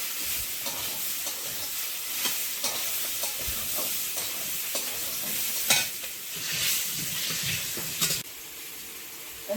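Green chillies and ginger-garlic paste with spices sizzle and fry in hot oil, a steady crackling hiss with scraping stirs throughout and a few louder pops near the end.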